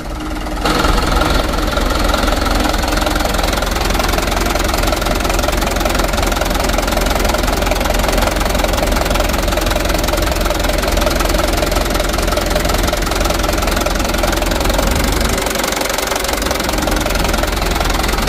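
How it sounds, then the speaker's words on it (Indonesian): The diesel engine of a Mitsubishi Canter truck runs continuously with a rough, knocking rattle. It is close and loud, holds a steady idle-like drone throughout, and no one speaks. "supaya mesinnya tidak jeglek-jeglek parah dan juga tidak merebet ya"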